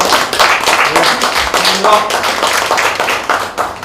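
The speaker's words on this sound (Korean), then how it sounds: "큰 박수로 좀 맞아주시고" A seminar audience applauds to welcome a visiting law professor: dense, steady clapping from a crowd fills the room for a few seconds.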